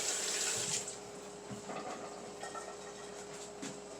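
Water runs from a kitchen tap into a sink during washing up, a steady faint flow that is louder at first and then continues softer with small splashes.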